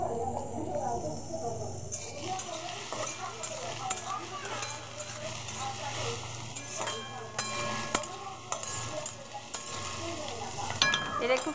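Food frying in a home pan before rice and spices go in, with steady sizzling and stirring scrapes running throughout, while someone talks over it.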